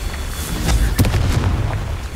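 A Confringo spell explodes in the video game Hogwarts Legacy, a loud booming blast with sharp crackling bursts that ring out and decay across about two seconds.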